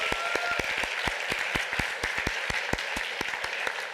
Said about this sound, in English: I'd like to do a big round of applause for the E&I team